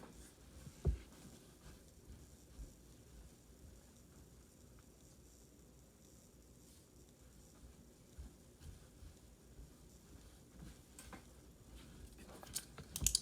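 Typing on a computer keyboard, a faint, quick, irregular run of key clicks going on throughout, with a few louder taps near the start and end.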